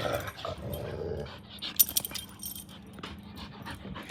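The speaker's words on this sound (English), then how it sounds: "If you hear my dogs, I'm sorry." Dogs growling, whimpering and yipping in rough play close by, in short bursts with a few sharp yelps, fairly quiet with no talk.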